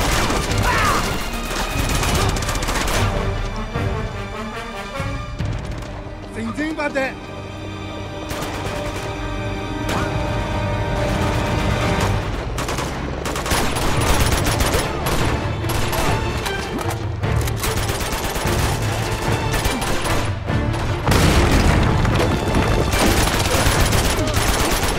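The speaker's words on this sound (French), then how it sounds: "Ah, c'est le tank qui me tire dessus, ok." Tank firing at the player in Uncharted 2, with loud bursts of gunfire, crashing impacts and booming explosions packed close together over a constant rumble of battle, lasting about twenty-five seconds with brief lulls.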